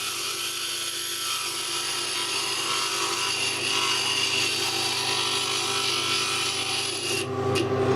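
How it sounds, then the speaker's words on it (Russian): A grinding machine smooths the edge of a glass piece for a heart-shaped box, a steady loud rasping whir that continues without pause before shifting briefly at the end. "Далее обтачиваем на шлифовальной машине кристалл."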